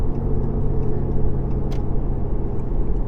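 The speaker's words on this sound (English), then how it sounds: "That exhaust brake kicking in" A firewood delivery truck's exhaust brake engages on the road, a steady loud low rumble and engine drone from inside the cab, continuous for the whole stretch with no talk.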